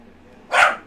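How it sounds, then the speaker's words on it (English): Single short bark from a dog, fairly close and sharp, rising out of a quiet background hum and fading quickly. "I'm just gonna let him bark."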